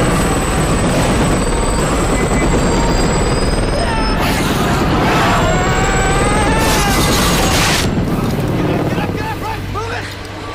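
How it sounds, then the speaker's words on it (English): A helicopter from a scene in the film 28 Days Later, loud and close, its turbine whine and rotor roar mixed with heavy crashes and film sound effects, the noise easing slightly near the end. "the helicopter pilot kills all the zombies with the helicopter blades"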